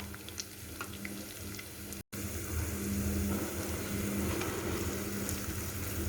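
Grated coconut roasting in ghee in a pan: a steady, soft frying hiss running throughout with faint crackles, interrupted by one brief silent cut, no voices.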